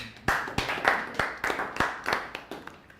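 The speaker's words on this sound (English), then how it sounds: "Clap for me. Clap for me." Scattered clapping at an East Africa smartphone inter-college film competition workshop, around ten distinct claps in an uneven rhythm, close and moderately loud, with no speech over them.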